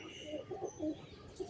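Pigeons cooing close by while feeding on mixed grain, several soft throaty coos in short bursts alone over a quiet background.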